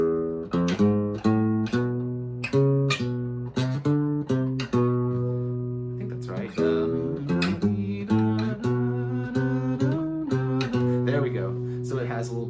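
A clean electric guitar plays a surf rock melody in harmonic minor, separate ringing plucked notes with an exotic flavor, steady and up close without any voices.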